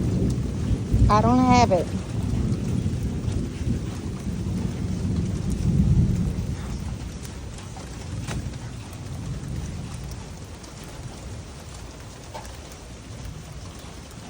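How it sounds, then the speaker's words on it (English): Rain falls steadily while deep rolling thunder rumbles, loudest early on, with a brief voice speaking near the start. "I know it's raining."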